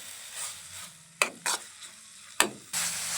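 Carrot halwa stirred and pressed in a pan, with a low continuous scraping broken by three or four sharp spatula knocks against the metal, close and moderately loud.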